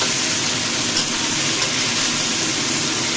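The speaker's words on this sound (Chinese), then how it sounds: "咁我煎完一邊啦，反轉去煎另外一邊" Sirloin steak strips sizzle in a hot pan, turned to fry the second side, producing a loud, dense, unbroken hiss close by with no talking.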